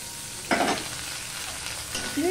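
Onion and garlic hit hot oil with whole spices in a pan, giving a close, steady sizzle with a sharp burst of frying about midway and a brief scrape of stirring near the end.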